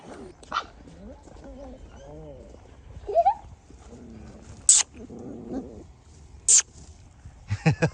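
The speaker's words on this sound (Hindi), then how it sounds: "देखा कैसे भौंक रहे थे हम यहाँ" Village dogs in rural Pakistan barking in a few sharp, loud bursts spaced across the scene, near and fairly clear, with birds chirping and people chatting in the background.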